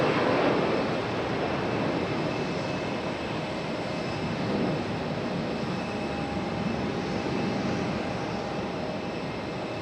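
Airplane on final approach at Raleigh Durham International Airport, a steady, distant engine roar and whine that holds almost level for the whole stretch.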